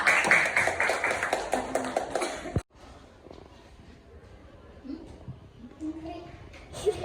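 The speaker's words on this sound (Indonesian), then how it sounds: "tepuk tangan untuk kelompok 2" A classroom of students applauds a presenting group during a science lesson, with a dense burst of clapping lasting about two and a half seconds that stops abruptly, then quiet room noise with faint voices.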